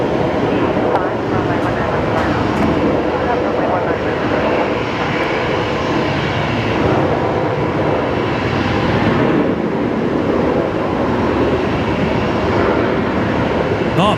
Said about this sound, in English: Qantas 546 coming in next here on runway 19 left